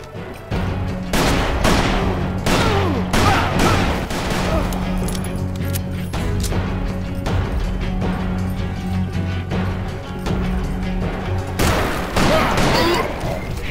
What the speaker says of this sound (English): As I said, gonna use my revolver.